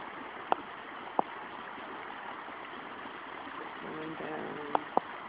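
A small creek runs beside a beaver dam after days of rain, a faint, steady trickle with a few sharp clicks and a brief muffled voice near the end.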